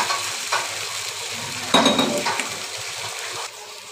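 Fish pieces go into a pan of sizzling spice masala with salt and turmeric, bringing a sudden louder burst of hissing and crackling among clinks of a spoon against the pan.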